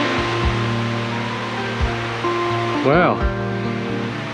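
Spring-fed creek running through remote countryside at Cape Melville National Park, Cape York Peninsula, a steady broadband rush of flowing water heard close and continuous, with a person speaking briefly over it.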